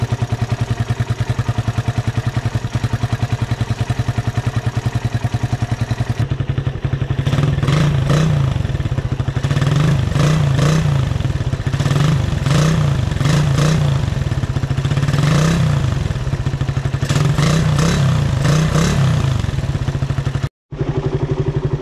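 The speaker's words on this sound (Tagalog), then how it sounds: "sound check tayo sa original sound ng New Breed 2011" A stock Rusi Raider 150 New Breed 2011 motorcycle engine runs close by, idling with a steady mechanical clatter at first, then revved repeatedly in a series of rising and falling blips, loud and alone, ending with a brief cutoff.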